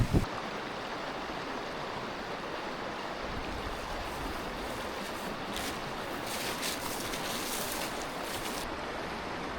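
A river running high after rain rushes steadily at close range, a broad continuous wash of flowing water with some wind buffeting the microphone and no voices.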